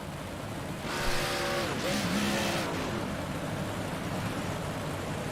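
Dirt track race cars circle slowly under a yellow caution behind a pace truck, their engines swelling into a loud, rough roar that passes nearby and then settles into a steady background drone.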